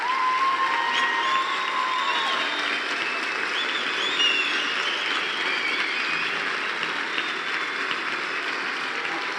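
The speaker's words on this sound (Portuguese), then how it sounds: "Eu quero que os da casa já deem um forte aplauso ao Senhor Jesus por eles." A church congregation applauds at length, a thick, sustained wash of clapping with scattered cheers and whistles rising above it, filling the space evenly from start to finish.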